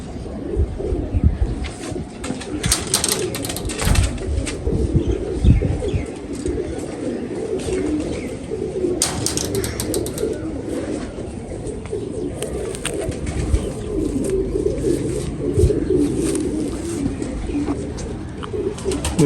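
Pigeons coo steadily throughout as a male bird is handled and displayed by a breeder, with a dense, continuous murmur of cooing and occasional wing flutters close by, no speech.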